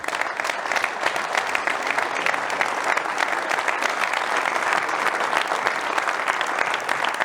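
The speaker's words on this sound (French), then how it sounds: "je voudrais que vous applaudissiez très très chaleureusement Pascal Ferré, président de l'agriculture." A crowd applauds at a New Year's greetings ceremony in the Zénith hall of Saint-Sauveur-Village: sustained, even clapping from many hands filling the hall for about seven seconds.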